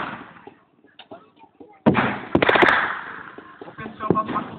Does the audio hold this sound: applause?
no